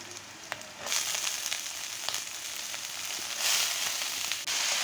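Banana flower and green chilies frying in a pan: a bright, hissing sizzle swells louder as the vegetables go in, with scattered crackles and soft clicks of stirring, close and steady, no speech.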